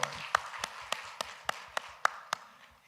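Church congregation applauding new members at a Sunday worship service: about ten sharp, evenly spaced claps in a steady rhythm, faint and somewhat distant, with no talking over them.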